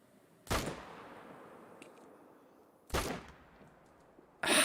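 Three sharp rifle gunshots in theHunter: Call of the Wild, hunting on the Te Awaroa map, each a loud close crack with a short fading echo, spaced roughly two and a half and one and a half seconds apart against quiet outdoor ambience.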